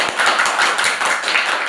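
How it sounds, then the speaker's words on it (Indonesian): Dense, steady clapping from a small group at a talk on personal branding, continuous and fairly loud throughout with no voices. "Tepuk tangan dulu dong untuk Mbak Alisa ya."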